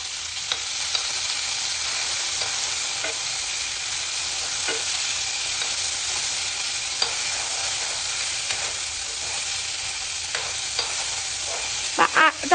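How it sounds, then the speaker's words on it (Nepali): Tomatoes and potatoes fry in a pan with a steady, dense sizzle that carries on throughout, broken by a few sharp stirring clicks near the end, and no one speaks. "यसलाई अब अझै एकछिन फ्राई हुन दिने"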